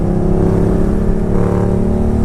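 A Kawasaki Vulcan 900 motorcycle engine runs loud and close, a steady deep throbbing drone with a slight rise in revs, no talk over it.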